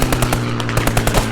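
Machine gun fire in the video game Squad sounds as a loud, rapid burst of evenly spaced shots, close and punchy, filling the short moment with no talk.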